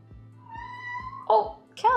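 A pet cat named Calvin gives a drawn-out meow in a kitchen where banana bread is being cut, then adds short chirps, with a faint rhythmic tapping underneath.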